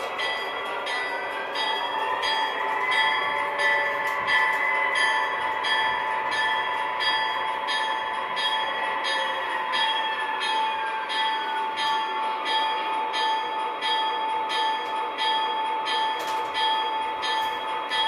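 A model railroad locomotive couples onto boxcars in a steady, continuous rail-running sound with a sustained squealing tone and faint clanks, heard alone at moderate loudness.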